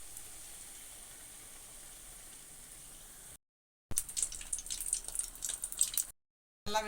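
Sweet appam batter fries in a pan with a faint, steady sizzle and crackle, broken by two brief silent gaps, with no talking.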